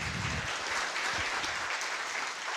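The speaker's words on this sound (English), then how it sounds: "a round of applause" Audience at a tech talk clapping continuously as a speaker is welcomed, a thick, even wash of applause with cheering mixed in throughout.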